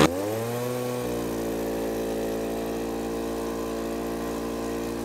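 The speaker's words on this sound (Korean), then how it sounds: "다음은 엔진 블로워 한선형입니다. 이것도 바로 한번 작업을 시작해 볼게요." A handheld engine-powered leaf blower starts and runs at a steady high drone, loud and close, holding one constant tone throughout.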